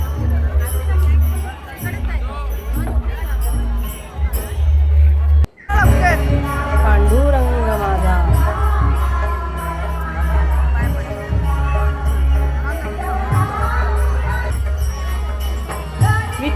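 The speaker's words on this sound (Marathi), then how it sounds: "बघा केवढी गर्दी आहे आणि आज एकादशी पण आहे म्हणून गर्दी पण भरपूर आहे" A dense crowd of pilgrims packs a Vitthal temple on Ekadashi, producing a steady roar of overlapping voices and murmurs, loud and close, with a brief break partway through before the babble resumes.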